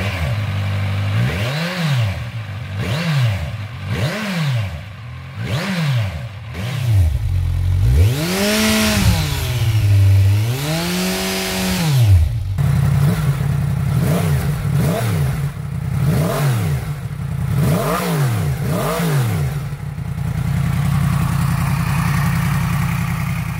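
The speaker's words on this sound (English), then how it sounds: "Let's also have a listen to the exhaust of these two machines." Two 1000cc supernaked motorcycles, a Kawasaki Z1000 and a Yamaha MT-10, rev their engines up close. Repeated throttle blips rise and fall, then longer sweeping revs build over a steady idle, all loud with no talking.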